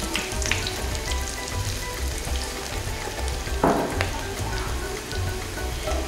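Onions frying with cinnamon, cloves and cardamom for nalli kurma, a steady close sizzle that runs throughout with faint crackles and one brief scrape of stirring partway through.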